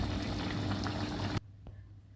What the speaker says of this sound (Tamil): பார்த்தீங்களா, குழம்பு வந்து கொதிச்சு கொண்டு இருக்குது.